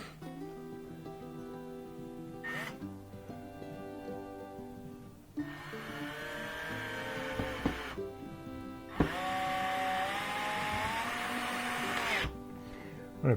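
Power driver sending screws into the panels of a chicken coop kit, whirring in several bursts of a few seconds each with pitch rising as it loads, separated by quieter gaps with some handling noise.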